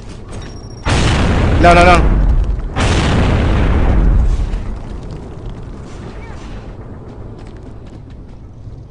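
Grenade explosions go off in the shooter video game Gears of War 3 during a tournament match, with two loud, close booming blasts that each roar for about a second and a half before fading into rumble, while players talk briefly.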